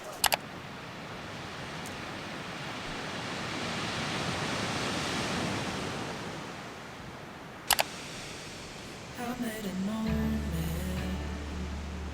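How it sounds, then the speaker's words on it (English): Ocean waves wash onto Sombrio Beach on Vancouver Island at a campsite, a broad steady surf roar that swells and eases. There are a few sharp clicks, and a low rumble and tones come in near the end. "I am super excited to be falling asleep to the sound of the waves crashing."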